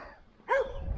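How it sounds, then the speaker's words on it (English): A dog gives a single sharp bark, loud and close, against quiet outdoor background on a suburban walk. "Oh, there's only dogs everywhere."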